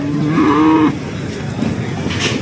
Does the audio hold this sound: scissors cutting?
no